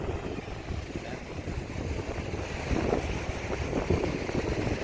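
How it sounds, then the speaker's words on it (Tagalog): Steady strong wind rushes outdoors on the Bataan coast during a low-pressure storm, moderate loudness, with a low rumble and faint gusting, no voices. "Malakas na ang hangin."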